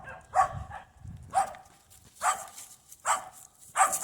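Several small dogs bark repeatedly at a kennel, sharp bursts coming in an uneven rhythm at moderate distance, with no talk over them.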